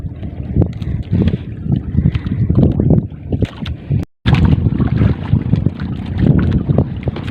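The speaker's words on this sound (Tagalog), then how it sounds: "So yan yung hangin natin" Strong gusty wind on a fishing boat at sea buffets the microphone in uneven bursts, with a brief dropout partway through and a roaring outdoor wash throughout.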